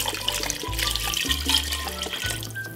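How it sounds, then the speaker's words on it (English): Water from a tap runs and splashes into a pot of chicken for pho, a steady close-up pour with gurgling as the pot fills. No talking is heard. "I am actually gonna add more water to this just to make sure it is completely covered."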